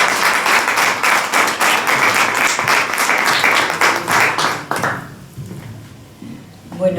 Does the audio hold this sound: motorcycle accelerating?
no